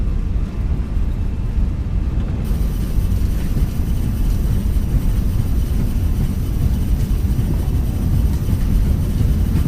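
Airbus A321 jet engines at takeoff thrust inside a flight simulator, a loud, steady broadband roar that holds constant throughout without breaks.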